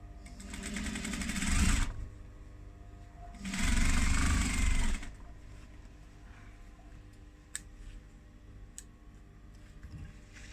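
A sewing machine stitches fabric onto faux leather for a clutch wallet in two loud, close bursts of rapid whirring, separated by a pause with quiet handling clicks and shuffling.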